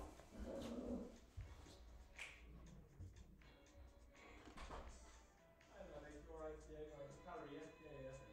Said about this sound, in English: Oh, that's my dog